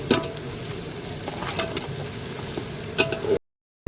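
Garlic and green chillies fry in a hot pan, giving a steady close sizzle with a few sharp stirring clicks. The sizzle cuts off abruptly near the end.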